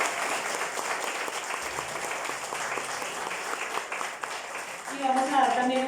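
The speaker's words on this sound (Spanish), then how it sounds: "Entonces vamos a dar un aplauso primero a ustedes por haber asistido." An audience at a health conference applauds, a dense crowd of clapping that stays steady throughout, with a voice speaking near the end.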